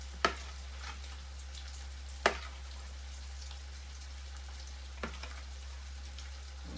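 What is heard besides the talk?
crab cakes frying in a pan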